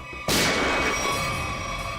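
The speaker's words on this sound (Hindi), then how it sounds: "गोली चली यहां से।" A single loud gunshot cracks suddenly after a quiet moment, then a long echoing boom slowly fades away.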